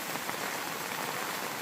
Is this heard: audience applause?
no